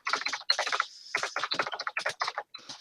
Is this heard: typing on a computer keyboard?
yes